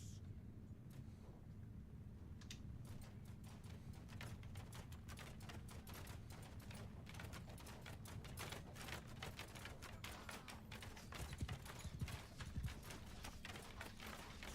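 Horses gallop across a battlefield in the medieval video game Mount & Blade II: Bannerlord, a dense, continuous clatter of hooves from many mounts, steady and moderately loud, with no voices.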